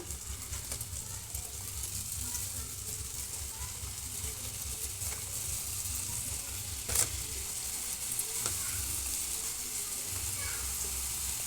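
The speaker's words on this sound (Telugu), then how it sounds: "మంట మీడియంలో పెట్టుకొని వేసి కాల్చుకోవాలండి" Karjikayalu, sweet stuffed dumplings, fry in hot oil in a kadai over a medium flame, giving a steady, even sizzle that runs throughout with a few soft clinks.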